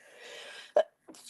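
One sharp, close sneeze from a person indoors, preceded by a brief breathy intake and followed a moment later by a softer exhale or sniff.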